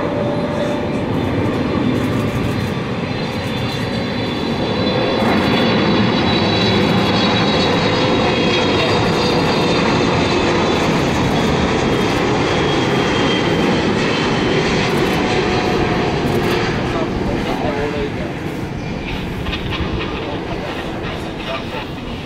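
An Aerologic Boeing 777 cargo plane at Tan Son Nhat airport produces a loud, sustained jet engine roar that holds steady for over twenty seconds while a voice talks over it.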